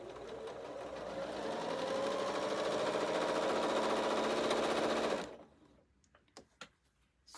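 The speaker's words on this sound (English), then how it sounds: "sew your sashings on." A domestic sewing machine stitches sashing strips onto quilt blocks, a steady loud mechanical whir running continuously for about five seconds before stopping, followed by a few faint clicks and handling taps.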